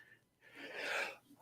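A single sneeze, a sharp burst of breathy noise rising to a peak in the middle and then fading, fairly faint and heard on its own.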